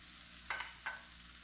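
Garlic cloves stirred in a frying pan, a faint low sizzle broken by two quick metallic scrapes of a utensil against the pan.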